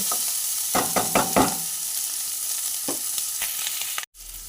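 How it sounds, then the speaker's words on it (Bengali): Loud, continuous sizzling of food frying in a pan, up close, with a few scraping stirs and clatters partway through. "এইভাবে ভালো করে ভেজে নেব"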